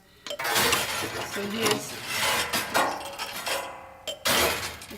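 A metal hardware-shop chain dropped and rattled across piano strings, a loud shimmering jangle of metallic buzzing and scraping in several bursts with short pauses, close and resonant; someone speaks briefly.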